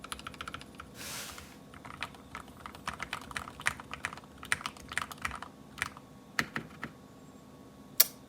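Typing on an upgraded Feker IK75 mechanical keyboard produces quiet, irregular clacks and a few sharper taps, close up, with no talk.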